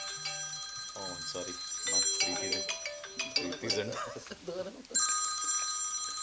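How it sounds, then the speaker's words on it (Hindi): A mobile phone rings with a bright, repeating electronic ringtone melody that sounds steadily throughout, with someone speaking briefly over it in an indoor setting. "इसका फ़ोन आया है, उठाना बहुत ज़रूरी है।"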